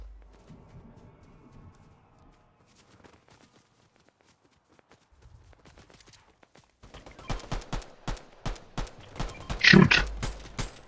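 Fortnite Zero Build gunfire arrives in the second half as a rapid run of sharp shots, fairly close and loud, after a quieter stretch of faint game sounds.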